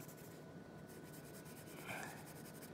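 A pen or pencil scratches across paper while a hockey goalie is drawn step by step, a close, quiet, continuous rubbing stroke with a slightly firmer squiggle near the end.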